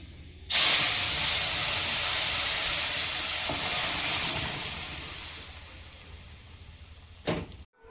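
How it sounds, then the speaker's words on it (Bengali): Fenugreek seeds hit a little hot oil for a chutney tempering, setting off a sudden loud sizzling hiss that slowly fades, with a brief clatter near the end. "চাটনিটা ফোড়ন দিয়ে নেব। অল্প একটু তেল দেবো। মেথি"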